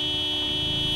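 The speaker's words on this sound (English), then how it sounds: "he didn't like you beeping" A car horn in the zombie survival game Project Zomboid sounds one steady, loud electronic beep, a flat buzzing tone held for the full second with no talking over it.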